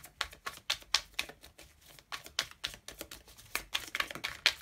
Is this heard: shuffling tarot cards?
yes